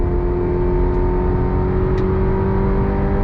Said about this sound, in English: I just went right back on throttle with 4 wet tires.